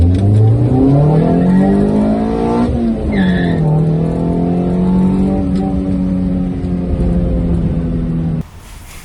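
A loud Nissan Sentra B12 engine, swapped to an SR20, revs hard and climbs in pitch, drops briefly at a gear change, then pulls strongly again with wheel spin before cutting off abruptly.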